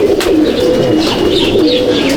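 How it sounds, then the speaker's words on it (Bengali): Male pigeons held in hand at a top-quality racing loft in Mominpur coo continuously, a low rolling murmur running close and steady with no pause. "হ্যাঁ, নরই দেখাচ্ছি"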